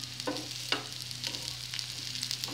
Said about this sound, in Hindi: इस तरह से इसे उलट कर फिर दूसरे साइड पका लेंगे।